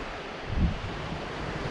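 Wind and surf on a beach viewed from above, with a brief, steady wash of wind noise and a soft swell of surf.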